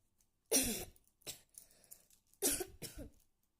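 A person coughs a few times in short, harsh bursts, close and clear against a quiet background.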